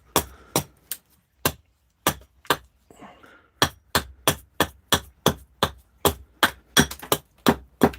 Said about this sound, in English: It's cutting nice though, the axe is, after its little sharpening.